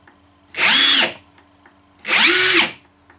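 A Graphite 58G024 cordless impact driver runs in two short bursts of just under a second each, a loud, high whine that spins up and cuts off, with quiet pauses between.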